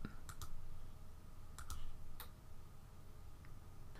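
Computer mouse clicks sound faintly in small pairs and singles, crisp and dry, over a steady low room hum while editing an image in Photoshop Elements.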